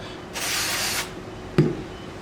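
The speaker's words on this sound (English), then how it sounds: "with a parts cleaner" A short, steady hiss of parts cleaner sprayed onto a hoist gear during maintenance, close and about a second long, followed by a brief knock of handling.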